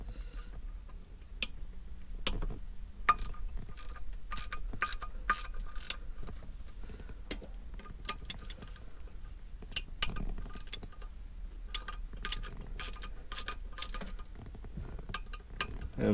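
A ratchet wrench breaks loose 10mm bolts on a C5 Corvette during a short-throw shifter install, giving repeated sharp clicking bursts and metallic ticks at close range, fairly quiet overall.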